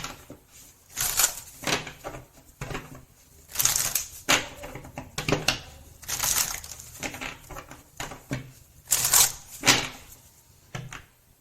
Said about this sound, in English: I'm going to turn this down so I could shuffle.